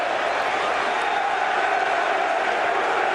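A packed football stadium crowd roars steadily through a Premier League match between Everton and Manchester United, a loud, unbroken wash of noise that neither swells nor fades over the few seconds.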